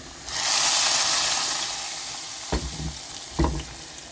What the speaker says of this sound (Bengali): এখানে পেঁয়াজ আর রসুনটা বাদামি কালার করে ভেজে নিচ্ছি